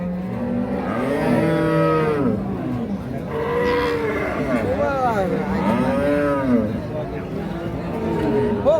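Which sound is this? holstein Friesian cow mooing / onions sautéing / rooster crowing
holstein Friesian cow mooing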